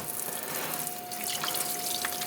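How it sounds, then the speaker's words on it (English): Tap water running steadily over freshly scrubbed russet potatoes for a final rinse in a sink, a continuous close splashing hiss with light drips and no talking. "now we're doing the final rinse"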